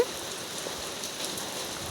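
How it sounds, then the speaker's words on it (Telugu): Heavy rain pouring down, a steady, dense wash of drops striking surfaces nearby with no break or change in intensity. "చాలా సంవత్సరాల తర్వాత పడుతుంది ఇంత పెద్ద వర్షం."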